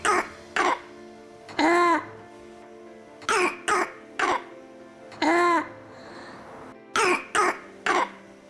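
A voice imitates a child with croup drawing in strained, harsh breaths, heard as several separate rasping inhalations with short pauses between them.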